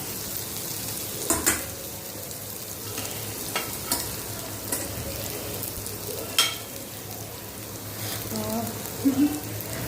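Breadfruit frying with pepper, salt and chilli powder, a continuous sizzle broken by repeated clinks and scrapes of a utensil stirring against the pan, heard up close.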